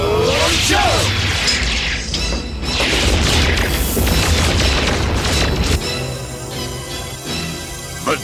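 A huge explosion destroys the Dragonfire command center in the animated G.I. Joe movie: a loud, sustained blast with deep rumbling and crashing debris that shifts into a thinner, ringing tail about two-thirds of the way through.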